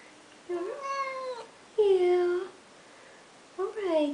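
Cat meowing at bath time in a new tub, with three loud, close, drawn-out meows separated by pauses and a faint voice in the background.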